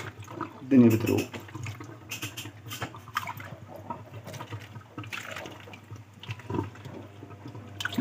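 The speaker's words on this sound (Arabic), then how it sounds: "كنا بنكب مية، الدنيا بتروق." Water poured into an LG refrigerator drains away, an uneven trickling and gurgling with one louder splash early on, heard close up among faint background noise.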